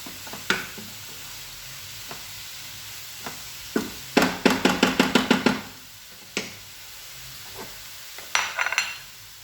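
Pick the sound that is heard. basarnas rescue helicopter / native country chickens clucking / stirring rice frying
stirring rice frying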